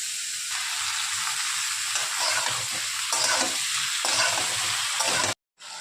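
Squash frying with turmeric and salt in a pan, a steady loud sizzle with scraping stir strokes and brief pauses, no voices.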